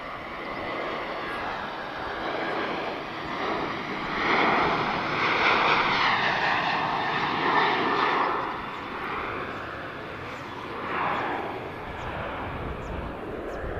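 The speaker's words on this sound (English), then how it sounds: "That's a bit more like it, Ryanair. Give us a nice noisy departure then." A Ryanair jet airliner takes off at Lisbon Airport, its engines roaring in a broad sustained rush that swells to a loud peak mid-way, then eases as the plane climbs away into the distance.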